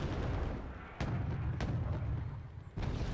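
A missile launch in the Wargame Red Dragon battle for Gaza: a rumbling roar with sharp bursts at intervals, three distinct cracks over a low sustained boom.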